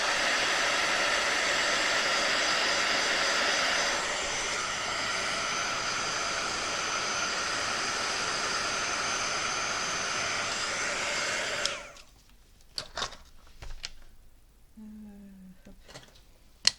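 A hair dryer blows with a steady loud whooshing hum, its pitch and volume dropping slightly partway through, then it switches off after about twelve seconds, leaving quiet handling sounds.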